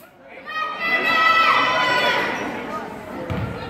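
An opposing school crowd at an 8th grade boys basketball game chants a cheer in a gym, a rising and falling group chorus of young voices, fairly close, with a thud near the end.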